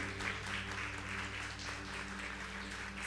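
Steady applause from an audience at a church lecture in an Assembly of God hall, a dense continuous wash of clapping held at even loudness throughout, with a constant low hum underneath and no talk.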